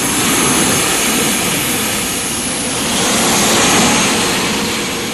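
A turbine-powered motorcycle running a helicopter jet engine gives a loud, steady broadband roar and whine that swells slightly toward the end, with no talking.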